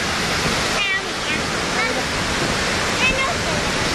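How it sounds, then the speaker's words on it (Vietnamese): A natural waterfall in the Central Highlands forest of Vietnam pours down in a loud, unbroken broadband rush that fills the whole clip, with faint bird calls and distant voices above it. "Thác này là thác từ thiên nhiên nó đổ xuống."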